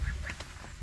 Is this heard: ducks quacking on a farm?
yes